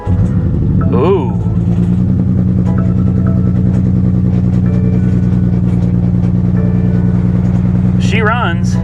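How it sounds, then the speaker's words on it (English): A 2020 BMW X7 idles with its exhaust cut off, producing a loud, close, steady rumble throughout, with brief vocal sounds near the start and end. "Listen to that exhaust. That's mean."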